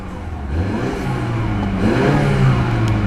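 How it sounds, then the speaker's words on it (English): A 2014 BMW X1's N20 2-litre turbocharged inline four-cylinder engine hums and rises slightly in pitch, a steady mid-range drone with light whirring, close by and without talking. "what you're hearing is BMW's N22 2-liter twin-cam 16-valve turbocharged and intercooled inline"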